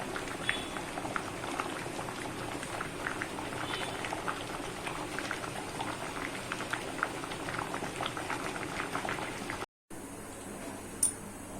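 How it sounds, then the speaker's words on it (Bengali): Water boiling hard in a cooking pot before taro leaves go in, a dense steady bubbling that runs evenly and close by, with a brief dropout near the end. "জল ফুটে গেলে কচুটা দিলে ভালো হয় সেদ্ধটা।"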